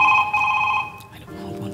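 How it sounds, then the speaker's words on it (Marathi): A mobile phone rings indoors during a stage comedy show, its bright electronic tone pulsing loudly for under a second before fading into quieter background sound. "तुझा फोन वाजतोय, उठ."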